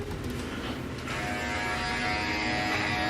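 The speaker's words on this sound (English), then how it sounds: "Just like have shaving noise in the background of my video." An electric shaver buzzes steadily in the background, a continuous mid-level hum with a slight rise after the first second, no talking over it.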